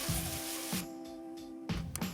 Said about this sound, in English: Centre, a cool circle spray.